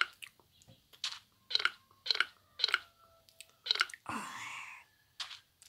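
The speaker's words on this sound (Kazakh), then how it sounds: "Тамақ жеп алдым." Crunchy bites of food being eaten in the Minecraft video game: a steady run of five or six close, crisp chewing bursts about half a second apart, then a longer rustling squish and one last bite.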